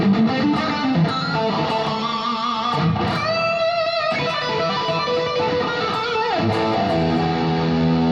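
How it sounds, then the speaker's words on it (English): Thick, heavily distorted electric guitar played through a Fractal FM3 unit with overdrive, sustained chords and bends, loud and continuous with no talking. "I can do stuff like the super overdrive pedaling."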